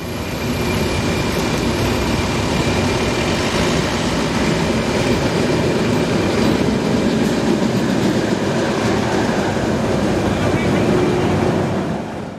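A locomotive-hauled train rumbles past close by through city streets with continuous heavy rolling noise and rhythmic clatter of wheels, steady and loud for the whole stretch.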